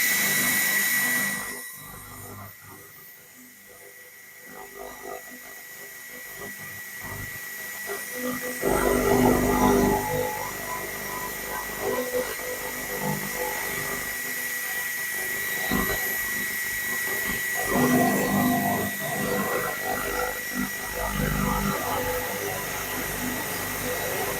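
A handheld laser rust removal machine cleans a rusty metal surface, producing a steady high-pitched whine over a continuous hissing buzz that swells and fades as the beam sweeps across the metal, with no talking.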